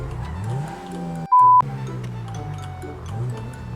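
A car in the FiveM game hums along with a rising and falling engine note as it shifts, cut by a short steady electronic beep partway through.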